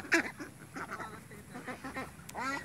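Pekin ducks raised for meat on a duck farm give a run of nasal quacks, several overlapping calls nearby with short gaps between them.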